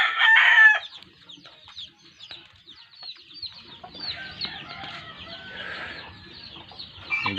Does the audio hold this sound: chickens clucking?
yes